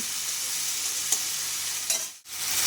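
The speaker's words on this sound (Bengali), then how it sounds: "মাছটা খুব বেশি ভাজবো না একটু মিডিয়াম ভেজে নামিয়ে নেব" Prawns fry in a pan with a steady close sizzle, briefly broken by a couple of stirring scrapes and a short dip before the frying noise returns.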